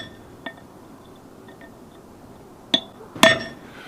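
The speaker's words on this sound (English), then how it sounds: "and then center punch" A hammer strikes a center punch to mark holes in a base for a drop pipe, giving a few sharp metallic clinks spaced apart, the last two louder and ringing, with no one talking.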